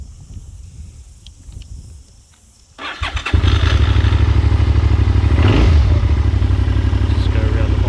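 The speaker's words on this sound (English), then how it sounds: "2011 SV650S, cold starter." A 2011 Suzuki SV650S motorcycle gets a cold start: quiet talk and background noise first, then the starter whirs and the V-twin fires into a loud, steady, fast idle up close, with voices heard over it.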